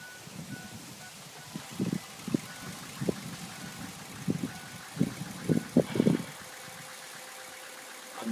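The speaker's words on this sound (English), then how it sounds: "One was the pre-cycle, the injector clatter." A 6.0 Ford Powerstroke diesel's injectors clatter during the key-on pre-cycle in irregular, knocking bursts at a moderate distance, with a low steady hum beneath; the truck cranks but won't start.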